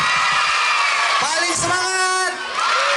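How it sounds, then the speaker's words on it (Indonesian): A children's audience at a storytelling roadshow clapping and cheering with excited whoops, a dense loud crowd roar while someone speaks over it. "tepuk tangan sambil teriak, yeay."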